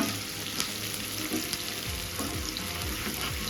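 Chopped onion and green chili frying in a pan give a dense, continuous crackling sizzle at steady loudness throughout, with no voices.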